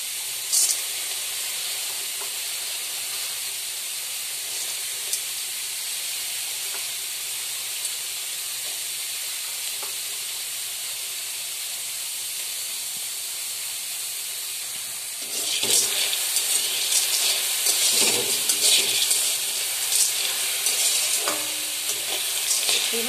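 Chickpeas being heated and stirred in a wok: a faint steady hiss for most of the time, then louder scraping and stirring strokes with sizzling near the end, close by and without talk.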